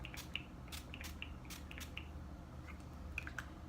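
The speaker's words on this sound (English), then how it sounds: "I want to quickly spray my face with this new spray" A series of short, sharp spritzes from a pump spray bottle of aloe, herb and rose water facial mist sprayed onto a face, several quick bursts at uneven intervals, close to the microphone.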